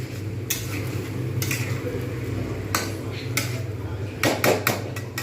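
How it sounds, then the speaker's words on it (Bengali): Prawns being stirred gently into cooked masala in a pan for a prawn malai curry, with scattered scraping clinks of a spoon against the pan over a low steady sizzle. "এইবারে আমি এর মধ্যে চিংড়িগুলো সবকটা দিয়ে দেবো। ভালো করে হালকা হাতে নাড়িয়ে নেব।"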